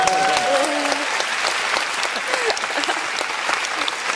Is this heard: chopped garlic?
no